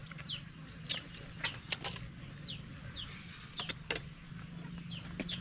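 Chickens near people eating a lunch of lobster soup and grilled fish cluck softly outdoors, with faint intermittent calls and occasional sharp sounds over quiet ambience.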